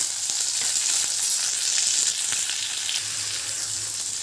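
Crushed garlic, onion and tomato sizzle steadily in hot oil for a Tamil homemade masala, a dense continuous frying hiss with faint stirring clicks and no voices.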